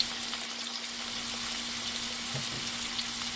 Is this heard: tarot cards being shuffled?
no